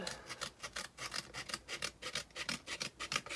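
Rasping strokes of a file trimming down the exposed edges of one-inch hinges on a wooden box lid, a steady back-and-forth rhythm of roughly a dozen close, even scrapes with no talk.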